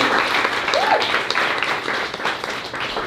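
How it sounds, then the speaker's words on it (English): A crowd at a queer arts festival's offsite show claps in a full, lively round of applause, dense and steady before easing slightly toward the end, with a faint whoop rising through it. "Another round of applause for LMNL."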